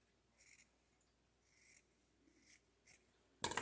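Scissors snip across a sock being trimmed straight, giving several soft, separate cutting sounds close up in a quiet room, then a louder rustle at the end.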